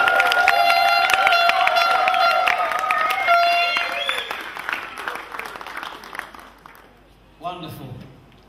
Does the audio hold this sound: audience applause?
yes